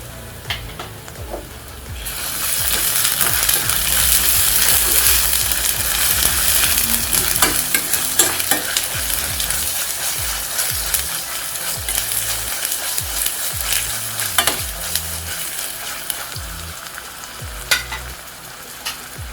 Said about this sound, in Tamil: வெங்காயம் நல்லா வதங்கிட்டோம். இஞ்சி பூண்டு பேஸ்ட் சேர்த்துலாம்.